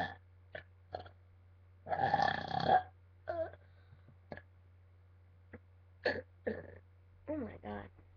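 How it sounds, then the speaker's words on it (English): A person lets out a long, loud burp close to the microphone, followed by a few shorter throat sounds and bits of talk in a quiet room with a steady low hum. "It was a huge burp."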